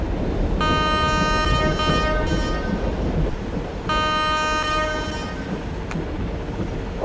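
The 12951 Mumbai Tejas Rajdhani Express passing slowly: a loud steady rail rumble with two long horn blasts, one early and one midway, and a short sharp click near the end.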